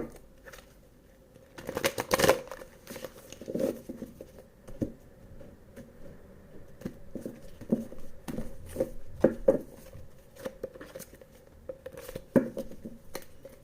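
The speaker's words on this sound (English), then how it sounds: "One more shuffle, please." Tarot cards being shuffled by hand, a soft papery patter of quick riffling bursts and taps that come and go, close and fairly quiet, with no talking.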